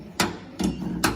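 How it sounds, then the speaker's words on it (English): The start and stop mechanism of an old gramophone is worked by hand, giving three sharp mechanical clicks or knocks spaced unevenly, close up and fairly quiet. "And the start and stop mechanism I find really strange."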